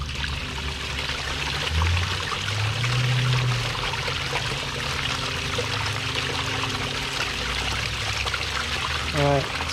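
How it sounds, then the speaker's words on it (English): Water flushes through a pond skimmer pump, a steady close pouring and trickling rush that runs the whole time, with faint low background sounds. "Now I'm going to just flush it just real quick."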